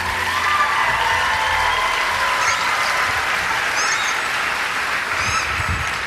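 A crowd at a beauty pageant claps steadily in sustained applause, with occasional faint whoops rising over the dense patter.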